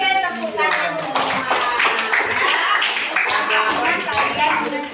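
A class of ninth-grade students claps together in a classroom, a burst of many quick overlapping hand claps lasting several seconds, with children's voices mixed in.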